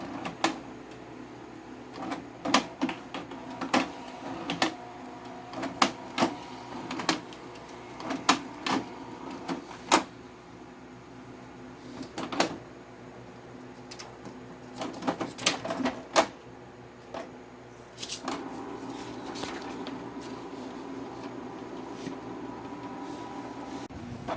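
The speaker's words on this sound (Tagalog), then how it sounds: "So yun guys, nagpiprint na." A Canon MP237 inkjet printer, printing with streaky lines, runs with repeated mechanical clicks and whirring bursts, pausing briefly between passes, then a steadier motor hum toward the end.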